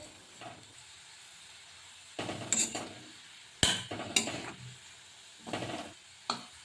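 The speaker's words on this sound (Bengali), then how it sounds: "দেখুন পেঁয়াজগুলো ব্রাউন হয়ে এসেছে। এই সময় কন্টিনিউয়াসলি নাড়তে হবে।" Browning onions stirred continuously in a frying pan: intermittent scraping and clinks of a spoon against the pan over a faint steady sizzle, with a few sharper knocks.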